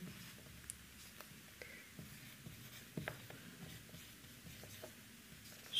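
A pen writing out a sentence on paper, soft faint scratching strokes in short bursts with small pauses, close and quiet with no talking.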